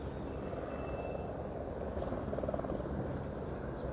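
A faint, distant helicopter drones over Fortaleza's beachfront, with a low, steady rotor rumble beneath broad wind-like noise, no voices present.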